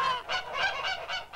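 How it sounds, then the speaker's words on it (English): Farm geese honk in a rapid series of loud, nasal calls, close and continuous, with no talking over them. "These geese live on a farm."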